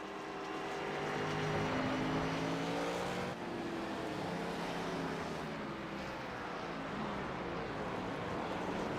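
Stock cars race at Sonoma in a sim racing video game, their engines droning loudly and continuously with rising and falling pitch as cars run close together through the corners, and no voices over them.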